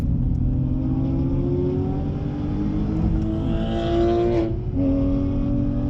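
A car held at full throttle on the Nürburgring Nordschleife climbing uphill, its loud engine droning steadily in-cabin with rising pitch, briefly dipping near the end as it shifts, then pulling again.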